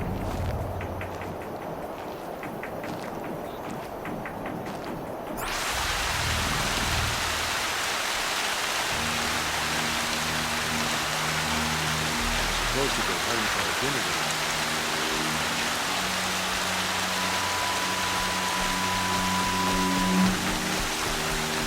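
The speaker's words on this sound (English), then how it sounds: "More rain. My boots will get damp." Steady hiss of rain in the video game Horizon Zero Dawn starts after a few quiet seconds and keeps pouring evenly, with low tonal music beneath.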